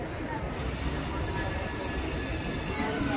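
A local train pulls into Digha station, its wheels squealing in a sustained high metallic whine over a constant low rumble of rolling carriages, heard from on board.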